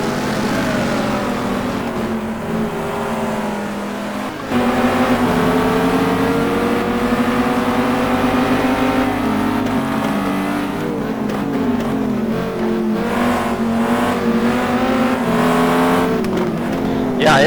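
Race cars including a Viper thunder around Road Atlanta in a GT2 series race, engines snarling loud and close in a continuous pack, revs rising and falling through gear changes, with a commentator talking over the roar.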